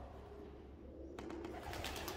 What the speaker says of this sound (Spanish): Hay palomas.